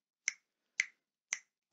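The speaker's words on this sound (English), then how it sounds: "we want you to snap your fingers" Four crisp finger snaps, close and isolated against silence, spaced about half a second apart, the last one softer.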